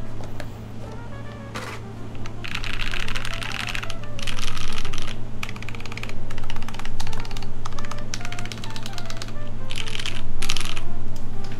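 Typing on a camouflage Filco mechanical keyboard fitted with Cherry MX Brown switches, a steady close patter of keystrokes in bursts with brief pauses, alone with no talking.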